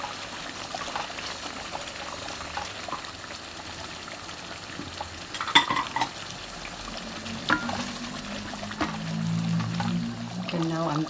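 Beef dropped into a pan of spice paste for korma, frying with a steady sizzle and scraping stirs, a brief louder clatter midway, while a person talks over the cooking.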